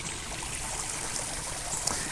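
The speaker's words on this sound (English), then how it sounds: "I'm going to go ahead and drop the light in." Splashing and trickling water as a submersible LED light is dropped into water about two feet deep, a continuous wet rush with a small splash near the end, no voices.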